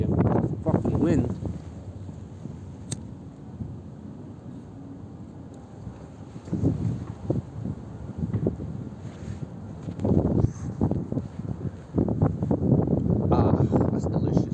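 Outdoor wind buffets the microphone in low rumbling gusts that rise and fall, loudest near the start and again toward the end, mixed with someone talking.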